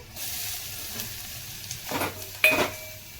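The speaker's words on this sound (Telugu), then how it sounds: "స్పూన్ పసుపు బాగా మిక్స్ అయ్యే వరకు కలుపుకోవాలి" Turmeric and masala powder stirred into a frying egg curry base with curry leaves, a soft sizzle with a few louder scrapes and clinks of a spoon against the pan toward the end.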